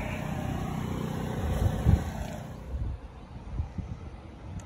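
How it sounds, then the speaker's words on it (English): A flap wheel spins against a Tbss intake manifold as a 92mm throttle body opening is smoothed, giving a steady high motor whine over low rumble that winds down and stops about halfway through. "So I'll smooth it out a little bit with that flapper wheel"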